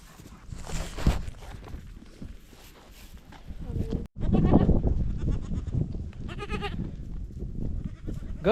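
Goats on a farm bleating in several short calls, mixed with shuffling footsteps and hoof sounds on the ground, fairly close with quiet stretches between.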